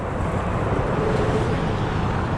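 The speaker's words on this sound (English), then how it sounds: "It's very loud because of all the traffic." Steady, loud roar of heavy road traffic passing close by a rail trail, a continuous dense rumble with no pauses.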